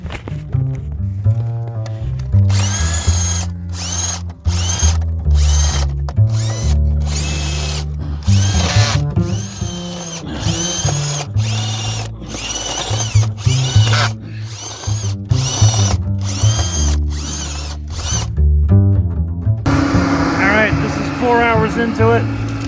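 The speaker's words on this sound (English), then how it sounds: "I'm gonna see if it'll help to use a spade bit on my drill here, and just use this to loosen up the soil" A power drill fitted with a spade bit churns into clay soil while a footing is dug in a tight space, the motor whining in repeated bursts with short stops between, close and loud, with a voice speaking near the end.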